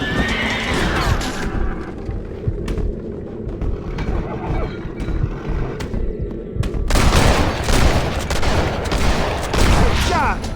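Horses whinny and stamp among scattered gunfire in a Red Dead Redemption shootout, with a few faint shots early and a louder, sustained burst of firing breaking out in the last few seconds.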